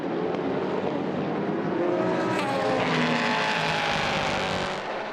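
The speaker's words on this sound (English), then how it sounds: "LMP3 action all the way down the field" LMP3 prototype race cars thunder past on a European Le Mans Series circuit, a loud continuous engine roar that swells as they go by.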